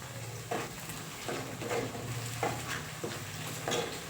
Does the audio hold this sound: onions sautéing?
yes